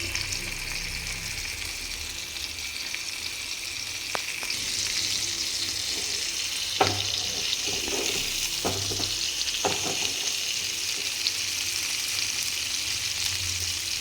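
Masala-marinated fish frying in a pan, an even bright sizzle that swells slightly midway, with a few sharp utensil taps and scrapes around the middle of the clip.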